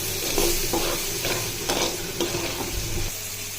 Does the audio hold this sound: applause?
no